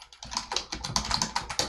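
Fast, close keystrokes on a computer keyboard as a command is entered at a command prompt, a quick uneven patter of about a dozen clicks with no voice over it.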